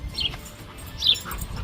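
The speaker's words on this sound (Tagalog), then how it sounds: "pati yung huni ng ibon" A couple of short bird chirps ring out in summer in Edmonton, Alberta, Canada, against a low rumble of wind or traffic, with no one talking.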